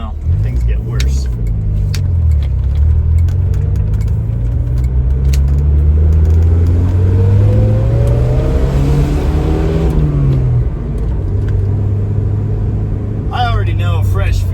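A 1981 Dodge Challenger engine idles and revs close by, a loud rough rumble rising and falling over several seconds before settling, with a few faint clicks near the end.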